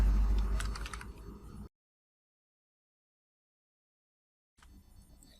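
Quick clicks of a computer keyboard as someone types a biodata in MS Word, a fast burst that stops for a few seconds of silence before faint tapping resumes.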